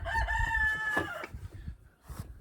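A rooster crows once, loud and close, its call trailing off into quieter rustling.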